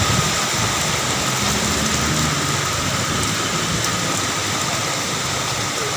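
Dense, steady roar of heavy rain pouring continuously, broadband and unbroken, with a low rumble underneath and no voices.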